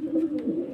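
A single short, low pigeon coo, soft and close, with a throaty rolling tone.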